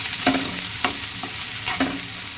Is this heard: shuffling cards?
no